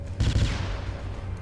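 Cannon artillery firing in the video game Galactic Junk League: one heavy booming blast followed by a rapid burst of reports, loud and close, then a fading rumble.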